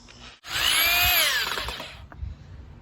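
A power drill drives a screw into scrap wood for a balloon base, giving one close, loud whirring burst of about a second and a half that winds down, followed by a faint clunk.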